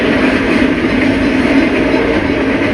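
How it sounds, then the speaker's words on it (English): A westbound Santa Fe train rolls past at CA Junction, a loud, steady wash of rumbling wheels and rail noise filling the whole stretch without a break, close and continuous. "a westbound Santa Fe train heads into the junction"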